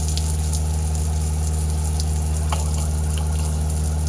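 Water mixed with pink antifreeze running steadily from the hot line of an RV's outdoor shower, a constant loud rushing flow with a pump-like hum underneath, close by and unbroken.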